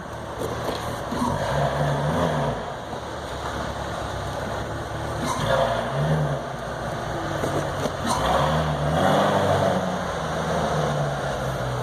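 A salvage 2015 Chevy Corvette Z06 3LZ moves forward and backward, its engine rising and falling in a few slow, loud revving swells over a steady low rumble with no talking.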